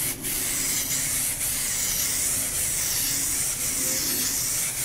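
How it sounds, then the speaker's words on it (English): Steady abrasive rubbing hiss of sanding a Benelli motorcycle fairing, continuous and close, with slight rhythmic strokes and no talking. "Just means extra sanding."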